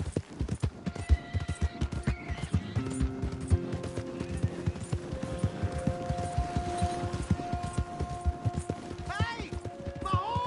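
Rhythmic hoofbeats clip-clop steadily alongside a horse's neigh in Red Dead Redemption 2, with a voice speaking over the galloping.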